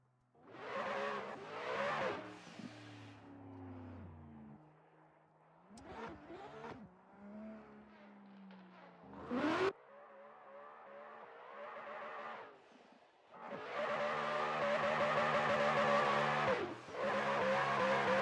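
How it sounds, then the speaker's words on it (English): A Ford Mustang drift car revs and screams around the track in repeated loud bursts, engine notes rising and falling with tire squeal, ending in a sustained full-throttle roar. "Jonathan coming out here, just sending that Ford Mustang all the way around"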